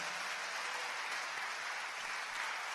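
Church congregation clapping together during a Spanish-language sermon, a steady dense wash of applause filling the space for a few seconds with no voices on top.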